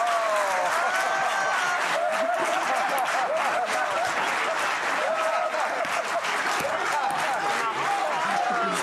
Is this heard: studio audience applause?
yes